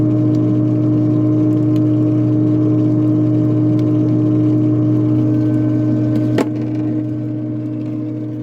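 A sugar syrup mixer motor running steadily nearby, a constant low hum and whir that continues almost without change, with one brief knock near the end.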